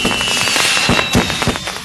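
Firecrackers burst at night during a village festival: loud, dense crackling pops follow one another in quick irregular succession, with a thin sustained high tone running underneath.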